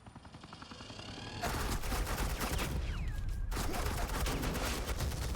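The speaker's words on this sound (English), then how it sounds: "Suppressing fire." Sustained suppressing gunfire in the Batman Telltale game, The Enemy Within, roars as a dense rapid rattle of automatic weapons, loud and close, building after a quieter start and pausing briefly before resuming.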